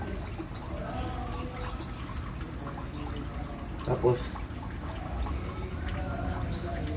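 Hose water sprays steadily to rinse empty fish tanks used for red tilapia, a constant hiss and splash running throughout with a brief louder burst midway and a short spoken word.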